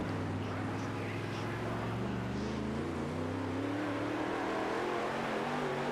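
A dirt racing car engine drones steadily at Knoxville in the World of Outlaws video game. The note is loud and close, with its pitch climbing slightly over several seconds.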